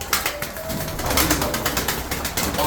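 Pigeons at a live bird auction in Antalya, cooing and fluttering close by amid clattering, mechanical rattles and bursts of wing noise throughout.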